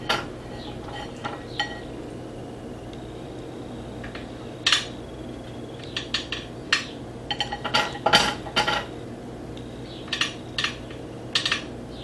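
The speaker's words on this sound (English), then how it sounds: "I'm using a spatula and it's breaking so delicate." Metal spatula scraping and tapping against a pan while breaking up seasoned fish for tacos, a string of close clinks and scrapes in irregular clusters over a low kitchen hum, no talking.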